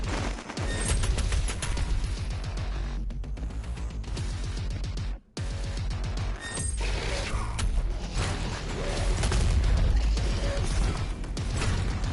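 Rapid weapon fire hammers at a boss's shield in Doom Eternal, heard as dense mechanical bursts and clanks over game music, with a short cut to silence midway.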